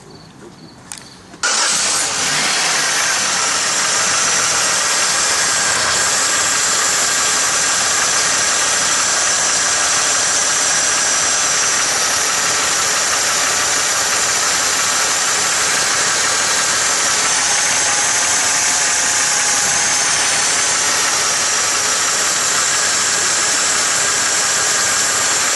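GM 3400 engine with a wobbling harmonic balancer and worn belt starts up and settles into a steady, loud, close idle with a constant mechanical hum and belt whir that runs without a break.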